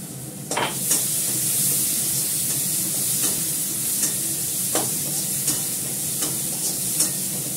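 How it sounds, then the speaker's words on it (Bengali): Fish sizzling steadily in a hot pan in a home kitchen, with a continuous bright crackle and occasional sharp taps of a utensil against the pan, close and fairly loud, no talking. "মাছটা ভাজা হয়ে গেছে"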